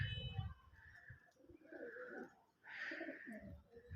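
Soft pigeon coos murmur close by, a few low rolling calls with quiet gaps between them.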